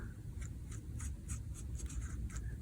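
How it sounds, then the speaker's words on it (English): A Sharpie marker scratches over pencil lines while a stamp is drawn, giving a steady run of short, quick strokes close by with a low background hum and no talking. "I'm going to take a Sharpie, just because I have so many pencil marks, and I'm going to go ahead and go over what I drew"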